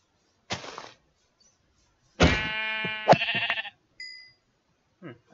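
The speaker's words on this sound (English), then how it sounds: "I just killed a gray sheep" A gray sheep in the Minecraft video game bleats as it is killed, a few short clear digital baa sounds with brief hit effects, quiet and isolated between gaps of silence.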